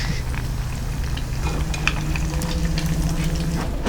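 Sesame seeds frying in a pan, a steady close crackling sizzle with scattered pops, loud and continuous without talk.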